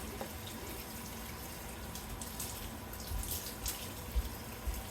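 Tap water runs steadily into a kitchen sink as food is rinsed under it, a soft, even splashing with a few small clunks near the end and no talking.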